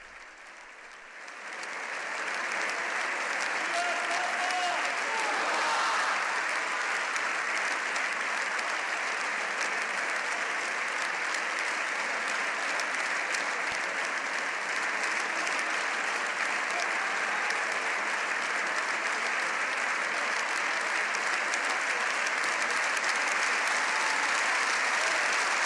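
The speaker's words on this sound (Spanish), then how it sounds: "Nuevamente se repite con más efusión el aplauso, largo aplauso" Long, sustained applause from deputies in the Spanish Parliament for Pope Leo XIV, a dense wash of clapping that builds within the first couple of seconds and holds steady and full throughout.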